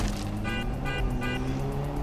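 Engine of an old-school car driving in the video game Dead Rising 3, a steady low drone with harmonic whine holding level throughout, continuous and moderately loud without talk.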